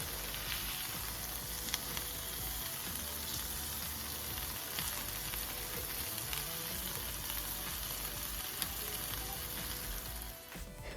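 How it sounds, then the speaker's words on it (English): Marinated meat sears in a hot cast iron skillet, giving a steady, dense sizzle that holds evenly for about ten seconds before easing slightly at the very end; no one speaks. "I am just going to place it in this hot cast iron skillet to give it a nice sear"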